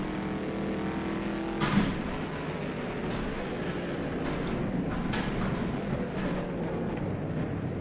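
A 1964 Shelby Daytona race car in rFactor 2 laps the Sudstrecke circuit, its engine droning steadily and loud throughout, with a few brief sharper bursts.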